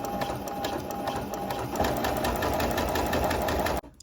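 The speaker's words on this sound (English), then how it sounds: "I'm also understitching the seam allowance toward the left" A sewing machine runs steadily, understitching the seam allowance on a winter cape collar, its rapid needle clatter continuous and close for nearly four seconds before cutting off abruptly.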